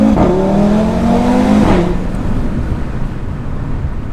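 An Audi RS3's engine winds up hard in first gear, its rising tone climbing loudly for about two seconds before a gear change drops into a lower, steadier cabin drone.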